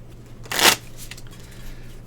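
Playing cards shuffled for a game of Pai Gow Poker, one quick riffle burst lasting about a quarter second, crisp and close, with quiet room tone before and after.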